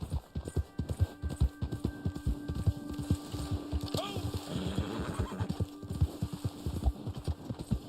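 A horse whinnies loudly over steady clip-clop hoofbeats in Red Dead Online, with a person talking throughout.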